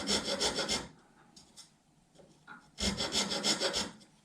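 A double cut file rasps across soft spruce guitar bracing in two steady bursts of rapid back-and-forth strokes, close and fairly loud, with a quieter pause of faint scraping between them and no speech.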